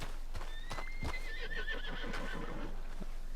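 A horse in Red Dead Redemption 2 lets out a rising whinny with light hoof clip-clops, moderately quiet over a faint background.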